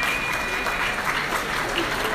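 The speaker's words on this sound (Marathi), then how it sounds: "आणि आता मला टाळ्या वाजवा असं सांगण्याची कदाचित गरज नाही पडणार" An audience at a jewellery store's mega draw event applauds the guests joining on stage, steady dense clapping throughout with a few cheers mixed in.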